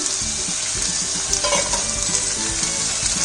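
Peas, beans and carrots fry in oil over a medium flame for vegetable fried rice, giving a loud, close, continuous sizzling hiss with faint spoon clinks and stirring throughout.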